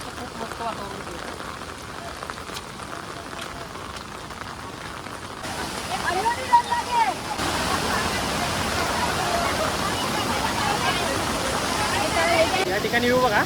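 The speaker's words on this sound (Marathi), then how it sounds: "वरतून असं पाणी येते." Rainwater runs down the hillside at the Kanheri caves in a steady, rushing stream that grows fuller and louder midway. Someone talks over the flow.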